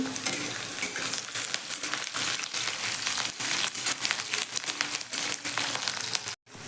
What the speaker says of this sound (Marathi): आता बटाटा आणि मिरची चांगली फ्राय झालेली आहे